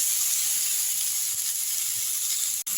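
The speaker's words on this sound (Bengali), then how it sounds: "দিয়ে আমি আরেকবার কমলা লেবুটাকে একটু ভাজা ভাজা করে দিচ্ছি।" Halved orange pieces being lightly fried in a pan for a sweet-sour orange chutney give a steady, even sizzle that runs unbroken and fairly loud, with one brief sharp click near the end.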